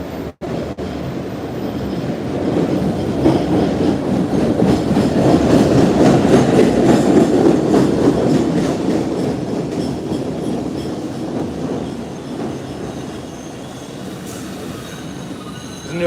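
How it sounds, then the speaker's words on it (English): An MBTA Red Line subway train rolls through the downtown station, a loud, sustained rumble of wheels on rail with metallic squeal and clatter that swells mid-pass and slowly fades, with no talking. "This is a new red line train."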